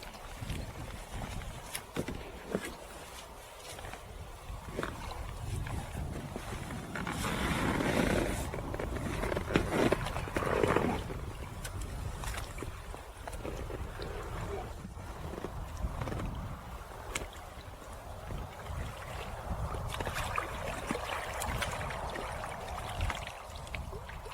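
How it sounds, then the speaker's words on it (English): A small fishing boat is rowed across calm, warm water in Ukraine. A steady wash of lapping and trickling water continues throughout, with soft, uneven swells of sound from the oars and no voices. "And I'll row."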